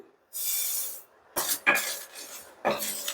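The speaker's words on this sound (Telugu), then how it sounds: "నువ్వులు వేరంగా వేగిపోతాయి కాబట్టి ఎండుమిరపకాయలు లైట్గా వేగిన తర్వాత నువ్వుపప్పు వేసి వేయించుకుంటున్నాను" Dry red chillies and sesame seeds roasting without oil in a pan, heard as several short, close bursts of hissing, rattling scrapes as they are stirred, separated by near silence.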